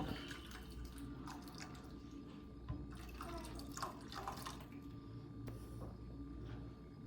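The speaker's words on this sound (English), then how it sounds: "Now I'm gonna add in my stock." Stock poured into a pot of shrimp jambalaya with rice, a faint steady liquid splash and trickle running for several seconds, close and quiet, no talk.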